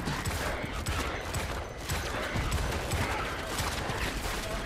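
Enemy gunners in Starship Troopers: Extermination fire in dense, fast bursts, a continuous crackling volley at moderate distance, somewhat muffled and steady throughout.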